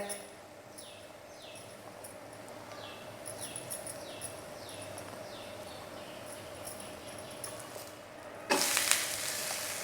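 A mixed-vegetable dhirda pancake roasts in oil on a pan with a steady, low sizzle and faint crackle, ending with a sudden louder scrape or hiss.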